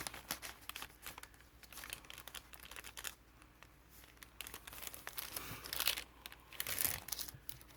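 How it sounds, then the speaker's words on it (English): Parchment music sheet paper is crinkled and handled close up, producing a continuous run of dry crackles and rustles with louder crumpling bursts toward the end. "I just like the sound of that paper."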